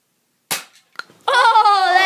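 A single sharp snap from a toy gun fires once, a faint click follows, and then a person cries out loudly right after.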